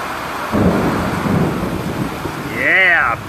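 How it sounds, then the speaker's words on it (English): Heavy rain pours during a severe thunderstorm in South East Queensland, a loud wash of downpour with a deep rumble, and a voice speaks briefly near the end. "Oh, this rain is beautiful stuff."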